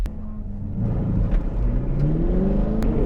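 A Camaro SS 1LE engine revs up hard and accelerates from a launch at an autocross, its pitch climbing steadily as the loud, close exhaust roar builds with gear changes.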